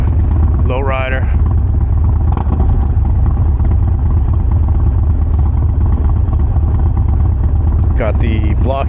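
Lowrider motorcycle fitted with a blockhead exhaust, its engine running steadily and rumbling close by for the whole stretch, with someone talking over it near the start and again near the end.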